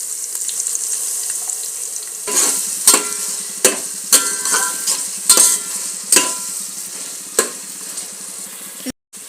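Vegetables for a vegetable biryani sizzle in a pan with a constant hiss, broken by repeated clanks and scrapes of a spoon stirring, fairly close and without talking.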